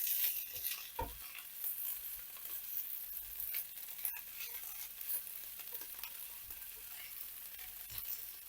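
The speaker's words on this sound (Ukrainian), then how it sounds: "І все перемішую" Meatball dish with garlic being stirred in a frying pan, soft scraping of a utensil under a continuous gentle sizzle, close up with a few louder knocks and no voices.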